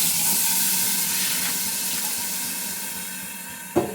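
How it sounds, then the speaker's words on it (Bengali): Water splashed into a hot pan of spiced fish head curry sets off a loud, steady steaming hiss that fades slowly, ending with a brief sharp clatter near the close. "একটু জল ছিটে দিয়ে দিচ্ছি যাতে একটু তাড়াতাড়ি সেদ্ধটা হয়ে যায়"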